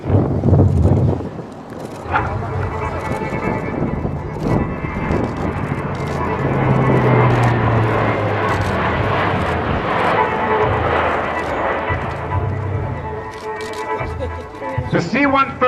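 A US military C-130 Hercules passes at low altitude during a Marine Air-Ground Task Force demonstration at the Iwakuni Friendship Day air show in 2018, its loud propeller roar building and fading with wind noise while an announcer talks over it.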